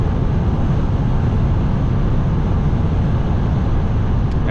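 Mercedes-Benz E400d diesel sedan, 2021 E-Class, accelerating past 200 km/h on the Autobahn, heard from inside as a loud, steady roar of engine, wind and road noise with no pauses or voices.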